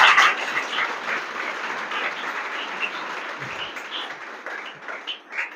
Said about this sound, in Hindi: तो इनके लिए ताली एक बार और बजाइएगा